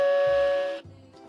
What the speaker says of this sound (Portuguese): Olha, a campainha.